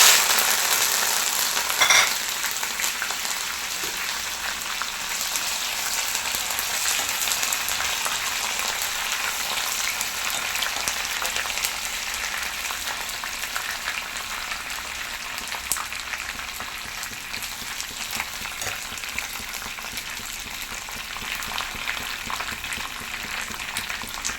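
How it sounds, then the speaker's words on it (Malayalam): Curry leaves fry in hot oil with a steady, fairly soft sizzle and crackle, a brief louder pop near the start, continuing evenly with no talk. "അതുപോലെ തന്നെ ഇത്തിരി കറിവേപ്പിലയും കൂടെ ഒന്ന് വറുത്ത് വെക്കാം"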